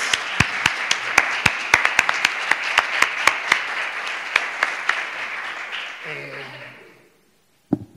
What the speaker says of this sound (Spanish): le vamos a aplaudir, ¿no?, porque esto no ocurre todos los días